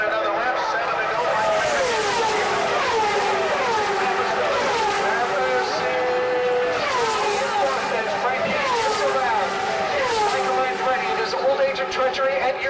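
IndyCar race cars lapping the Michigan 500 oval in 2000, engines rising and falling in repeated pitch sweeps as several cars pass in succession, heard under continuous commentary.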